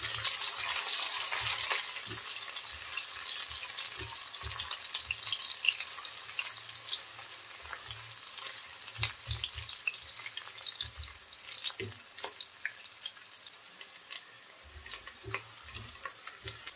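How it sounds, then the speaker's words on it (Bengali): Sliced onion frying in oil with bay leaves for a chicken and potato curry makes a steady, close hiss with scattered crackles and stirring clinks throughout, no voices. "পেঁয়াজটা একটু ভেজে নেব।"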